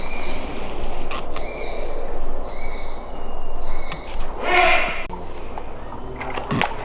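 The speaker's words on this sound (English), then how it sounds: "at the moment I'm in with Margaret, who is a snowy owl." A snowy owl calls inside its enclosure at a birds of prey centre, giving a string of short, strained, harmonic cries that repeat close by over a steady background hiss.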